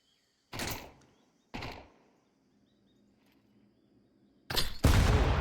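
Explosions from HE grenades and gunfire in a competitive Counter-Strike match: two sharp, loud blasts about a second apart, each fading quickly, then a quiet stretch before a heavier, sustained burst of fire or explosion to the end.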